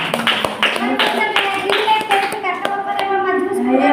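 Hands clap in a quick, loud run of sharp claps close by, with voices talking over the applause.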